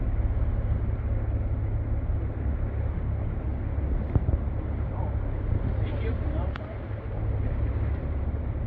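A boat motors along an inner channel in Voyageurs National Park, a steady low engine drone with wind buffeting the microphone, continuous throughout with a brief dip near the end.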